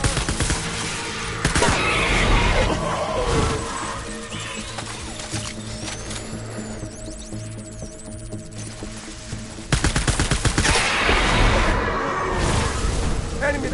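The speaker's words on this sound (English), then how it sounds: "Taking fire!" Gunfire in the video game Death Stranding: loud bursts of shots and booms open and close the stretch, with a steady low hum and rumble of combat between them.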